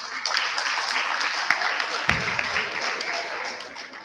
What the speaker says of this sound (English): I think they need a round of applause.